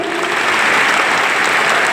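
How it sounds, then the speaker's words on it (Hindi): A crowd at a political speech by Delhi's chief minister Rekha Gupta claps loudly, a steady unbroken wash of applause from start to finish. "जोरदार तालियां बजाओ भाई"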